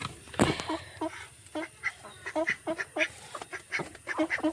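Vigova and African ducks honk and quack in a loud, close, overlapping series of short nasal calls, one sharp burst near the start followed by steady rhythmic quacking.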